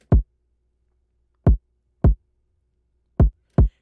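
FL Studio drum beat with soft clipping on: five sharp, punchy kick hits in an uneven rhythm, loud and up front, with silent gaps between.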